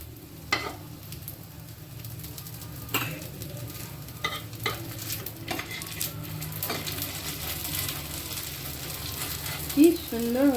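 Patisapta, a rolled Bengali crepe, fries in ghee in a pan, giving a soft continuous sizzle with scattered scraping and clinking of a spatula, faint and close.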